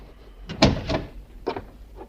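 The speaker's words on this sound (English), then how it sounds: "Close the door." A door swings and closes in a radio drama scene, with a few soft knocks and thuds at close range and no voices over them.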